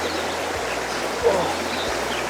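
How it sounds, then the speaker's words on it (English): Steady broadband wash of a creek flowing in Wisconsin's Driftless Region, a constant near rush of water with a brief louder bump midway and faint low thumps underneath. "Beautiful looking creek."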